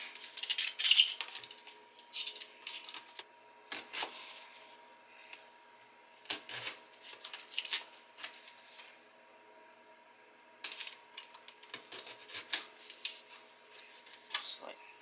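Knife cutting food in half along a slit, a series of crisp scraping and slicing strokes in bursts separated by quiet pauses, close and with no talk.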